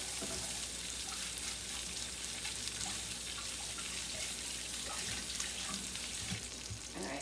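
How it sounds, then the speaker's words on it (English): A kitchen tap runs while hands are washed under it, a soft, steady hiss of flowing water with faint splashes, heard alone and fairly quiet throughout. "let me wash my hands"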